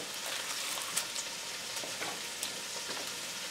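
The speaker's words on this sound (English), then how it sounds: "so that's sizzling really nicely" Vegetables sizzle steadily in a hot frying pan, a constant crackling hiss with occasional louder pops.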